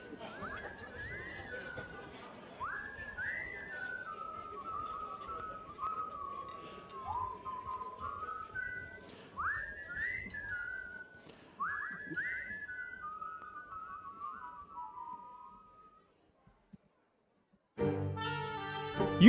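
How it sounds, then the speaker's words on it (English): Several people whistle a melody together in a hazy, roomy space with murmuring crowd noise beneath in an audio drama, then the whistling fades and a brief burst of music starts. "they're just all whistling the same tune as they make their way out"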